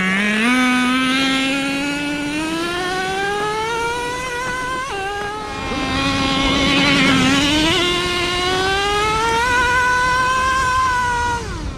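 The nitro engine of a Traxxas T-Maxx Classic RC truck buzzes loud and close, its high-pitched whine rising and falling as the throttle revs up and eases off over several seconds.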